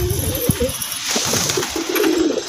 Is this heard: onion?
no